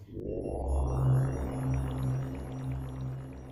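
A person imitates a whale with a low, drawn-out moaning voice, sustained and wavering for several seconds in a quiet indoor room.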